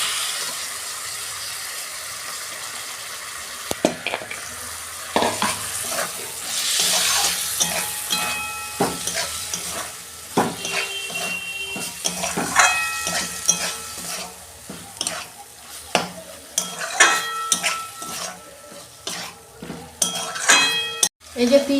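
Bottle gourd goes into a frying pan of sautéed prawns and is stirred, with a spatula scraping and clattering against the pan over a low, steady sizzle and intermittent sharper knocks.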